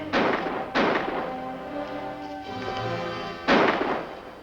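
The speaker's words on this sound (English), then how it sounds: "Tell him to cut out that firing!" Gunfire in a western film: three heavy booming shots, two close together and a third after a pause, each ringing out into a long echoing reverberation that lingers between blasts.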